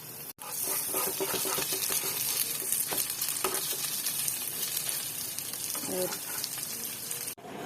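Bread frying in a pan, a steady close sizzle and crackle lasting throughout, with short scraping and stirring knocks as the slices are turned over.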